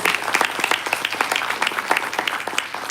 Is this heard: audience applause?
yes